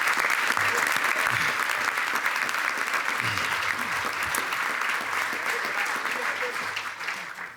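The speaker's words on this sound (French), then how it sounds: "réservons-le une bonne main d'applaudissements pour les remercier du fond du cœur" Sustained applause from a large audience at the Parti conservateur du Québec party congress, steady and dense throughout, loud and filling the hall, with a slight fade at the end.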